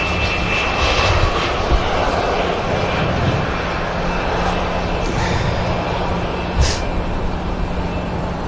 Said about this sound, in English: let's concentrate on these touchdowns for a bit now.